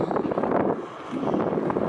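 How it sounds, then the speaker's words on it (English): Gusty wind buffets a Sony DSC-HX80 camera microphone on a windy day, rough low rumbling bursts that dip briefly in the middle before rising again. "it's kind of windy today"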